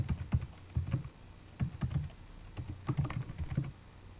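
Key presses on a computer keyboard as a title is typed into an Excel 2007 error alert field, several quick bursts of clicks separated by brief gaps, near and soft.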